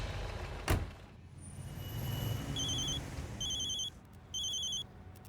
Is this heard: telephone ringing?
yes